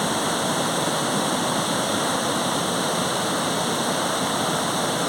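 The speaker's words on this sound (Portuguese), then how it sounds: "Isso aqui é a cachoeira do Pio, aqui em Araponga" The Cachoeira do Pio waterfall in Araponga, Serra do Brigadeiro, Minas Gerais, pours with a loud, close, unbroken rushing roar of falling water for the whole stretch.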